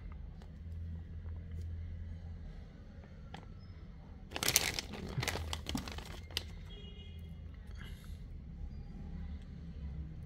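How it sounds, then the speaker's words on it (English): Plastic bag packaging of a Dien Quang extension lead (3 outlets, 2 m wire, 4000 W) is handled, giving a few close crinkling bursts over a steady low rumble. "This is the plastic bag."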